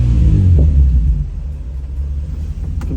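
Nissan 350Z with newly swapped injectors running smoothly while driving, a loud deep low engine rumble inside the car that eases slightly after the first second.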